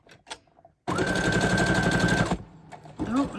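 A sewing machine runs a zigzag stitch through a paper ruffle in one steady, loud burst of rapid mechanical chatter lasting about a second and a half, with quieter handling noises before and after.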